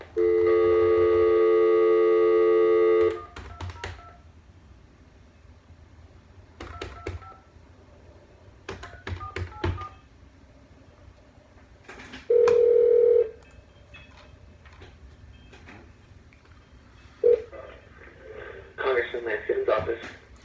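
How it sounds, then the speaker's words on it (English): A loud telephone dial tone gives way to bursts of keypad tones, then a ringback tone sounds once, with quiet clicks and a voice answering near the end. "Let's give him a call."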